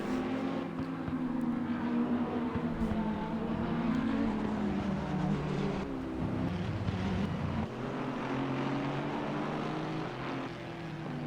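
Race cars in the Assetto Corsa Competizione video game on the Hungary circuit, a dense steady roar of several engines droning together, rising and shifting slightly as they pull through corners, no talk.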